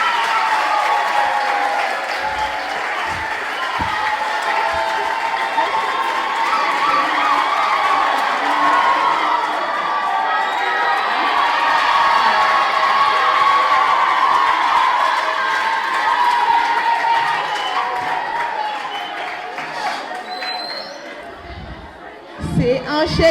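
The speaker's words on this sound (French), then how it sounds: "Nous allons devoir applaudir, inviter notre cher papa, Papa Docteur Denis Mukwege." A large audience breaks into sustained applause and cheering to welcome a guest to the stage at a Panzi Foundation event, a dense, loud, steady roar of clapping and shouts lasting the whole stretch before fading at the end.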